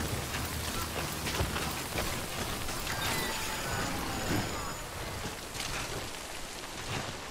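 Steady rain falling in the video game Death Stranding, a continuous dense hiss with scattered drop taps, even and close throughout.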